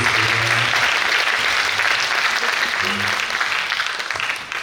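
A worship congregation at a theology department opening service applauds steadily and loudly throughout, the dense clapping easing slightly at the end, with faint voices and a low musical tone underneath.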